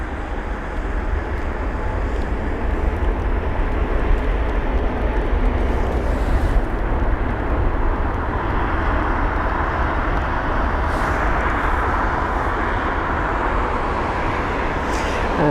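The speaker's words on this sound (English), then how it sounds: "now we're on to some rainy arrivals into London Heathrow Airport" A Lufthansa airliner arrives at London Heathrow in the rain, heard as a loud, steady broadband roar of engines and rainfall that continues unbroken throughout.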